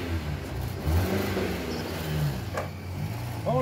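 A car engine revs after stalling on a bridge, loud and close. The rising mid-pitched whir holds through the whole moment with no talk over it.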